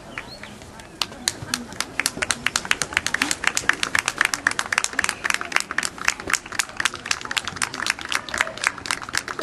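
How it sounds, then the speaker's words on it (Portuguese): Sharp individual handclaps ring out in a quick, fairly regular rhythm at a youth football match, close and distinct, starting after a quiet second and carrying on steadily with faint voices underneath. "Tem tantas palmas"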